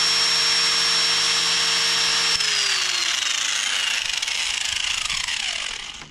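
An electric grinder runs on a Bluetti AC180 portable power station with a steady high whine, then its pitch falls as it spins down to silence.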